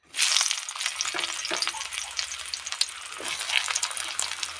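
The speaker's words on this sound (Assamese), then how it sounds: "এতিয়া তেলখিনি গৰম হৈ আহিলত মই এতিয়া পিঁয়াজ দিছোঁ" Sliced onions hit hot oil in a kadai over a low gas flame and sizzle loudly right away, a close, continuous crackling fry with stirring scrapes.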